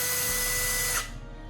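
A power drill motor whines steadily at high speed, then its pitch drops and the sound thins out as it stops or slows near the end.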